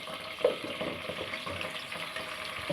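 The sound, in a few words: ginger garlic paste frying for sarson ka saag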